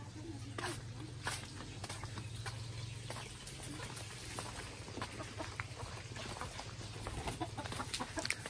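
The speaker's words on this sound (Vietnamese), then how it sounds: "Gà rất là nhiều." Many black-boned chickens moving about outdoors beside a vegetable bed, with soft clucking and scattered bird calls over a steady low hum, and a person speaking intermittently.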